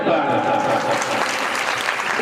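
An audience at a Shrimad Bhagwat katha breaks into sustained, dense clapping, loud and close, with a voice speaking over the applause.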